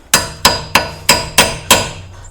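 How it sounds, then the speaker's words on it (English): A hammer strikes a chisel six times to stake an axle nut during a front wheel hub bearing replacement on a 2005 Subaru Legacy, each hit a sharp, close metallic clang with a short ring, evenly spaced about a third of a second apart. "a couple of whacks with a hammer"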